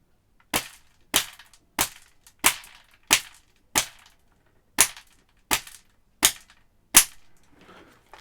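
An HPA-powered airsoft gun in a Car 15 setup firing 0.32 gram BBs, ten sharp evenly spaced pops each with a brief decay, close and loud with silence between shots.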